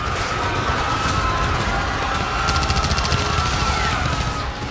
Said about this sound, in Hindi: अचानक गोलियां बरसने लगी